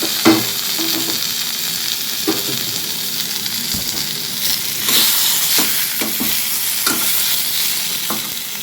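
Pre-boiled mixed vegetables for a Bengali shukto sizzle and fry in a pan, with steady hissing and intermittent scraping stir strokes throughout, close and moderately loud, no talking.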